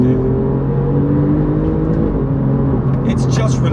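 An Alfa Romeo Giulia GTA M accelerating hard, its engine note loud, close and continuous for a few seconds, with a voice talking over it.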